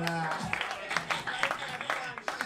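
Comedy club audience in the Dibaku club applauding, fairly faint scattered clapping with murmuring voices and speech mixed in.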